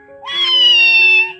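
A single abandoned baby kitten gives one long, loud, sustained meow close by, one of a litter of five left on a mountain near a road.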